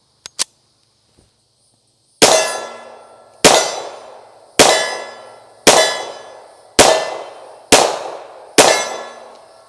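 A Tisas M1911A1 Government .45 ACP pistol fires seven loud, evenly spaced shots from a US GI magazine on an outdoor range, each sharp crack trailing off in a ringing decay, with a couple of faint clicks before the string.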